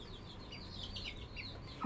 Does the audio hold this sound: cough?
no